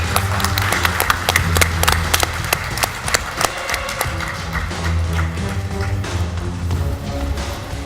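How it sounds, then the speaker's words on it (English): Conference audience at a RetailNOW 2017 Shark Tank pitch session applauding, a loud dense burst of many hands that gradually thins and softens toward the end, with no talking over it. "if you can keep those hands clapping"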